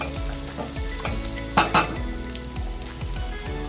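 Green beans fry with onion and garlic in a pan for a Gilani stew, a steady close sizzle with a couple of sharp stirring scrapes in the middle.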